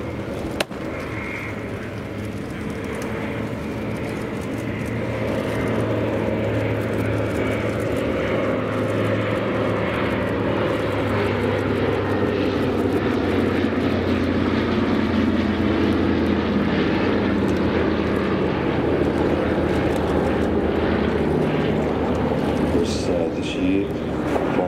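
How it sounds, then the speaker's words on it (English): A Douglas DC-3 / C-47 Dakota propeller aircraft flies over Duxford airfield, producing a loud, steady piston-engine drone that builds and holds throughout. "DC-3, C-47"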